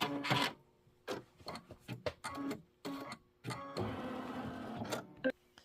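A Kimberbell embroidery machine stitches a charming roll-up pouch, giving off bursts of rapid, clattering mechanical chatter broken by short pauses, then a longer steady run of stitching, fairly close and alone.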